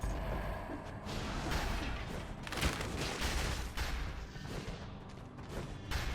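A turret fires repeatedly in the Dead Cells video game, a busy run of rapid shots and bursts layered with whooshing effects, steady and fairly loud throughout.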